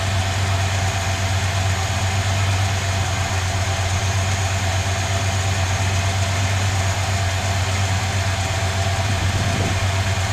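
A 1970 Dodge Polara wagon's engine idles steadily while warming up outdoors on a warm day, a constant close low rumble with no breaks.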